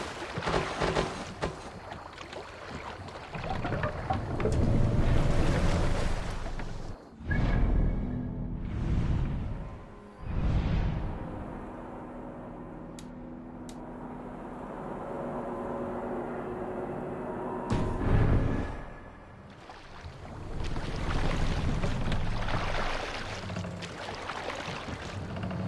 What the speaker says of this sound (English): No raising the sail here. We need to row our way out.